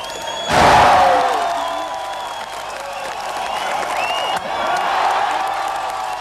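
A large outdoor crowd at the Berlin Wall at Potsdamer Platz roars and cheers, opening with a loud surge and then sustaining a broad, echoing wash of shouts and whoops.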